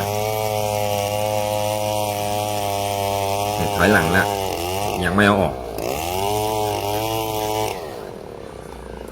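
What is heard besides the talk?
8.5 horsepower chainsaw cutting wood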